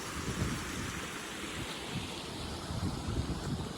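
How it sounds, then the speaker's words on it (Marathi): A steady, broad wash of rushing water in a forest runs throughout, with gusty low rumbling from wind against the microphone; no one speaks. "किती पाणी वाहत आहे"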